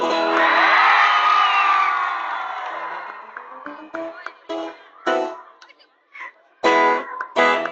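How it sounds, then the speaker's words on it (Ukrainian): Crowd at an outdoor concert show in Radyvyliv shouting and cheering, a long loud sustained roar at first that fades, then broken by short bursts of yelling and cheers with voices calling over it. "Ви, мабуть, слабенько кричите."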